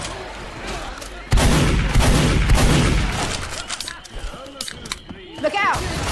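Gunfire bursts in the zombie shooter game Left 4 Dead 2, loud and dense after a quieter opening, with sharp repeated shots and booms layered under voices talking.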